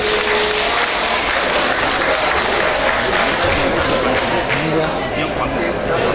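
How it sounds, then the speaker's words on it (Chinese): A crowd at a junior high school 50th-anniversary reunion applauds a former teacher, dense sustained clapping filling the room, with voices talking underneath. "来掌声"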